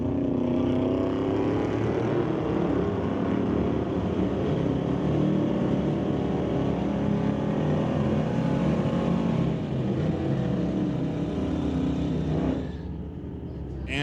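A drag race car runs down the quarter-mile at Mission Raceway Park, a loud, sustained engine roar with shifting tone that fills the clip before dropping off abruptly near the end.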